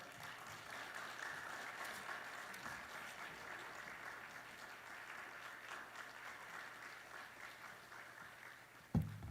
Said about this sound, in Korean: 우리 목사님 나오실 때 큰 박수로 모시겠습니다